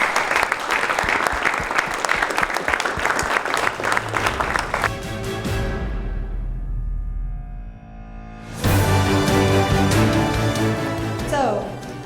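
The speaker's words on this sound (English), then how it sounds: "Let's give them a round of applause." Audience applause for coaches at a sports Hall of Fame gala: strong, dense clapping from a large room for several seconds, then a music sting with a swooshing sweep that rises again over fading claps.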